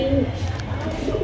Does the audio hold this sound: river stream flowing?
no